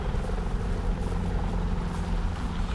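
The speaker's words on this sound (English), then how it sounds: "hear another helicopter." A helicopter flying in the video game Firewatch, a steady, low droning rotor rumble heard throughout at moderate volume.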